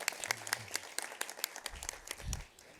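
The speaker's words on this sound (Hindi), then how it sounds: "एक बार जोरदार तालियां हो जाएं सारे प्रोमोस और फेस टीवी के लिए।" Audience applause at a Faiz TV network launching ceremony, a burst of sharp individual claps close by with a thin crowd behind, fading out after about two seconds.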